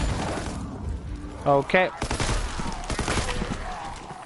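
Gunfire in Call of Duty: WWII Zombies, with scattered shots and crackling bursts mixed with game noise and a brief voice.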